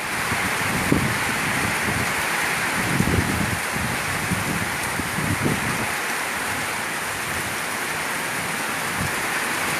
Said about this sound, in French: Alors ici il peut pleuvoir un petit peu comme ça.